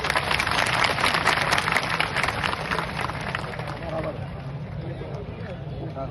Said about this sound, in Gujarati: તાળીઓથી તો આપણે ખૂબ સમર્થન આપ્યું